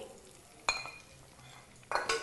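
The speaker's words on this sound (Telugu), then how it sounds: "పోపు కర్రీలో కలిసేలాగా బాగా కలుపుకోవాలి" A spoon scrapes and clinks against a metal pot in a few quick strokes, stirring tempering into brinjal and lentil curry, close and fairly sharp, with a faint sizzle underneath.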